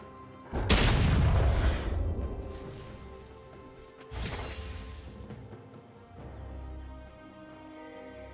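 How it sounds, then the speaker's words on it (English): Turret being destroyed in League of Legends: a heavy booming crash with shattering debris, followed a few seconds later by a second smaller crash and fading rumble amid game ambience. "Red team's turret has been destroyed."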